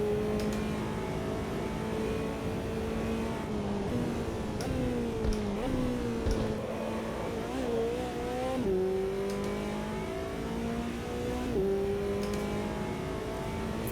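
A McLaren GT4 racing around Spielberg in Automobilista 2, its engine revving up and down through repeated climbs and gear changes, loud and continuous with no voices.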